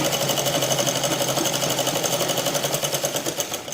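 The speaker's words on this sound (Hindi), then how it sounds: "और फिर मैं यहाँ पे सिलाई लगा दूँगी" A sewing machine stitches petticoat fabric up close, its fast, even needle rhythm running steadily and loudly, with no talk.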